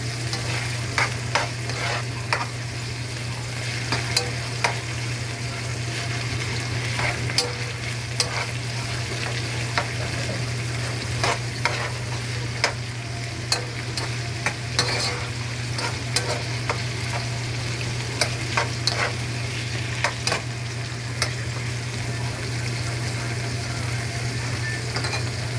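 Meat and garlic sauté for ginisang mongo (Filipino mung bean stew), giving a steady frying sizzle with a constant low hum and many sharp clicks of stirring throughout, with no voices over it.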